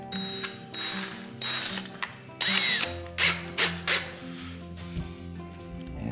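A power drill runs in several bursts, whirring and ratcheting as it bores a hole, with pauses between pulls of the trigger.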